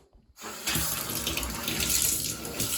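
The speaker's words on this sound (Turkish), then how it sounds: "Suyumuzu açıyoruz." Shower water turned on to bathe a Siberian husky, a steady hissing spray starting abruptly after a brief silence and running on, close and fairly loud.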